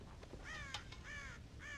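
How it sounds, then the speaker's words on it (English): Crows caw in the Red Dead Redemption video game, three harsh calls in a row, faint and somewhat distant, with no other sounds. "God damn crows!"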